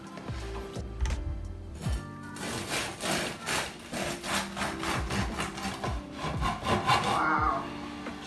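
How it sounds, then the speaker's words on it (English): A knife saws through a loaf of crusty homemade wheat brown bread, giving rhythmic rasping strokes with crackling crust, close and clear with no talking. "our bread is cooled off, so now we're going to slice"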